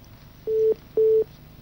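Two steady telephone line tones, each lasting about a quarter second with a short gap between, heard after a phone call drops on a Hindi TV news debate; faint low hum underneath, no talk.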